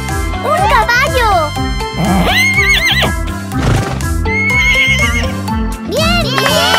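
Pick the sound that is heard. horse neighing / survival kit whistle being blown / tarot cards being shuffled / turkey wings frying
horse neighing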